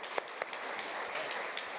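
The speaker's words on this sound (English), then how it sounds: "Can we give them a big round of applause?" Faint, brief applause from a credit union conference audience, a dense wash of hand claps from a distant hall with no talking.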